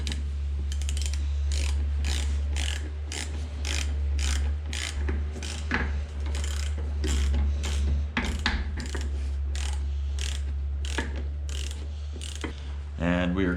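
Ratchet tightening nuts on a car's master cylinder during a truck build, a long series of quick rhythmic clicking bursts, close and crisp over a low steady hum.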